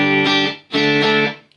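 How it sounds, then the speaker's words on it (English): An electric guitar played on its single-coil neck pickup through a prototype amplifier rings out in two sustained, chimey chords, loud and close, the second following a brief dip. "See this chimey single coil sound? I love it. Neck pickup."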